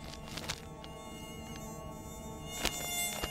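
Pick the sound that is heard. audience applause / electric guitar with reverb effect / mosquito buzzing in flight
mosquito buzzing in flight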